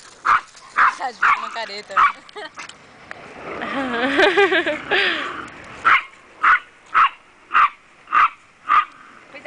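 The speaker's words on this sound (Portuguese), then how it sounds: "Cuidado, Minha cachorrada." Several dogs bark at home in a rapid series of sharp, close barks with wheezy grumbling mixed in, while someone talks over the middle stretch before the barking resumes in an even rhythm.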